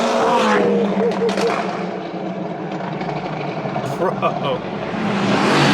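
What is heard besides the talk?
supercar engine revving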